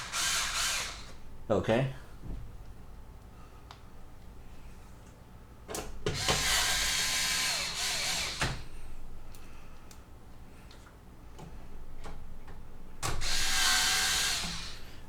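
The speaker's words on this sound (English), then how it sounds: "my electric screwdriver." Electric screwdriver driving screws during an Intel Z87 PC build: three loud whirring bursts of several seconds each, separated by quieter handling noise, with a brief spoken word in between.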